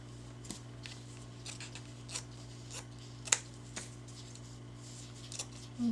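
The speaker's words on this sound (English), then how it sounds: "Here I go again using my paper scissors for fabric." Paper scissors cut through fabric in a handful of faint, separate snips over low background hum, with one sharper snip near the middle.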